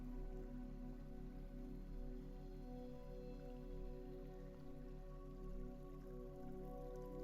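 Gentle rain patters on the surface of a lake, quiet and continuous with light drips sprinkled through the steady hiss.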